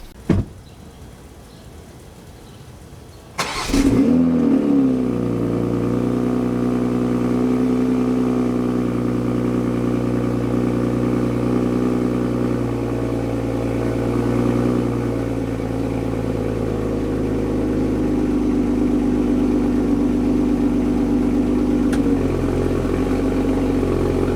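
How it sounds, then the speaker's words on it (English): Toyota A90 Supra cold start on an inclined driveway: a quiet moment, then the starter catches and the engine flares up loudly before settling into a steady, high idle that holds for the rest of the clip. "We'll get a nice little cold start going for you."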